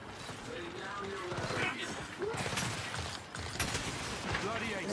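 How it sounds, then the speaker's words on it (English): Enemy gunfire in the video game Gears 5: bursts of shots and mechanical clatter run steadily underneath, with a voice talking over them. "They're shooting at you."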